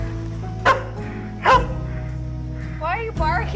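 A pet greyhound named Hemi barks indoors, three sharp close barks spaced about a second apart, with a whiny yelp in the final burst, over a steady low household hum and light talking.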